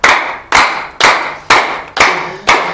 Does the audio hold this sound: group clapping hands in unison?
yes